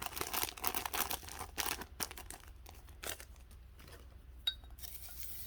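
A pack of white Christmas sequins is poured into a shaker embellishment, giving soft rustling, crinkling patter in bursts that thins out, followed by a single small clink.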